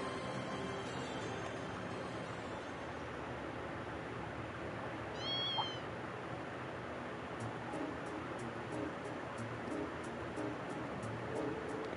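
A stray kitten in Trails of Cold Steel II gives a single short meow, faint over soft ambient game background with a sea-like wash, followed by a series of light regular chime ticks.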